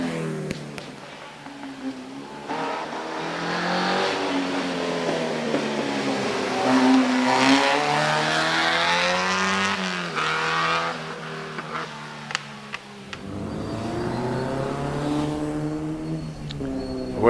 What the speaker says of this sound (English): Away from the line goes Weston Mitchell in the Frazer Nash Falcon.